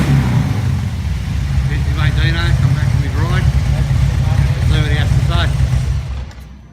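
A 2016 Harley-Davidson Road Glide fitted with Reinhard Extreme True Duals exhaust rumbles steadily nearby with a deep throaty note, running continuously beneath several people chatting before it fades out at the end.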